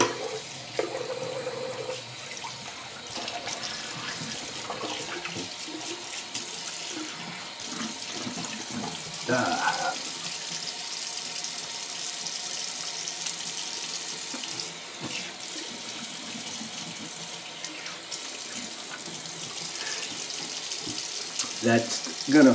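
Cold water runs steadily from a bathroom tap into a sink for a shaving rinse, a continuous close splashing rush that lasts the whole time with small clatters and faint movement over it.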